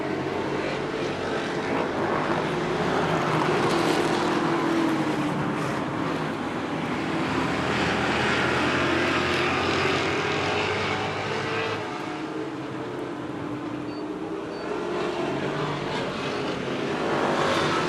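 Super short track race cars roar around an oval on the final lap in a steady, loud, dense engine drone that swells and fades slightly as the pack passes, with no commentary over it.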